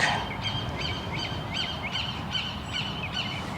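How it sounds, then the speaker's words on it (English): A crow caws repeatedly outdoors, about eight harsh calls in a steady rhythm at moderate distance over a constant low background rumble. "There's a bird going crazy out here."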